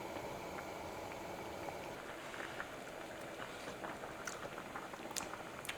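A pot of food boiling on a stove gives a steady, dense bubbling and simmering hiss that runs without pause, with a few faint clinks on top and no talking.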